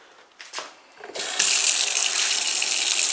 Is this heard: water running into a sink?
yes